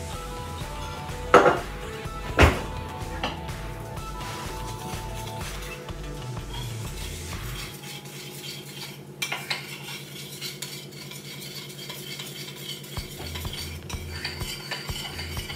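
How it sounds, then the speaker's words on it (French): A spoon mixing about four tablespoons of white wine into pesto in a bowl, starting with a few sharp metallic clinks and then settling into steady scraping and stirring, close and with no talking. "Donc vous mélangez ceci à votre pesto"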